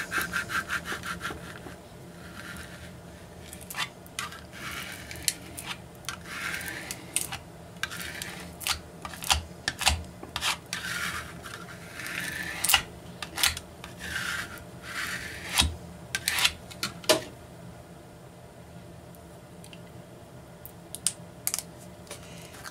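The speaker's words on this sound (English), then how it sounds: "And burnish it really good." Transfer tape being burnished firmly onto a glass block, a long run of close scraping and rubbing strokes with sharp clicks and short pauses between passes, no talking.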